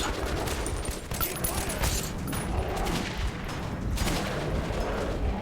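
Rapid gunfire from the video game Metro Redux, dense bursts of shots layered with booms and rumbling effects, loud and continuous throughout.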